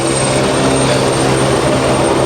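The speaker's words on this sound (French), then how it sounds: "Donc du coup là on est sur un hélicoptère" A helicopter at the Monaco heliport gives a loud, close, steady rotor and engine roar that fills the short stretch without letup.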